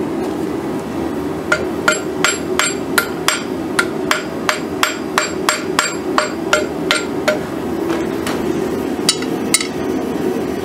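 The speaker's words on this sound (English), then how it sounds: "we're going to hammer it over in alignment a little bit more" A forged katana blade made from a rail spring clip is hammered back into alignment, ringing metallic strikes landing in a steady, fairly quick rhythm with brief pauses, loud and close over a constant forge roar.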